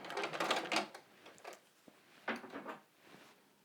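A sewing machine back stitches a Star Wars pajama pants waistband in a few short, quiet bursts of mechanical whirring and clicking, separated by brief pauses.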